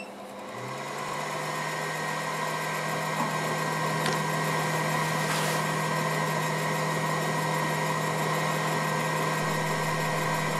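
A laser engraver works a thin 1/8 inch pine board, giving off a steady, continuous mechanical whir and hum with a constant tonal whine and no talking.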